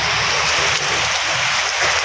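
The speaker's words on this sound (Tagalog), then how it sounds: "lalong lumakas yung ulan." Heavy rain pours loudly and continuously, a dense close hiss of water striking surfaces with no voices over it.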